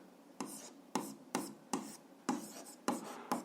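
Pen strokes on paper while working an algebra exercise: six or seven short scratchy bursts in a steady rhythm, close and fairly quiet, with no talking.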